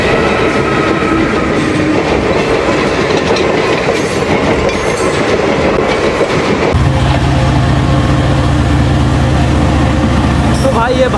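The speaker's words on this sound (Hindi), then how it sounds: "तो भाई ये भारतीय रेल" An Indian Railways train rolls past on the tracks at night, a loud, close rumble with steady clickety-clack from the wagons, then a lower engine drone takes over as voices talk beneath it.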